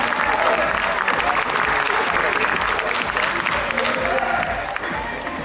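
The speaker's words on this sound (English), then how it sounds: "Audience, let's give a nice round of applause." Loud, sustained audience applause with some cheering at a lightweight men's bodybuilding prejudging, steady clapping from a crowd that eases slightly near the end, with an announcer's voice over it.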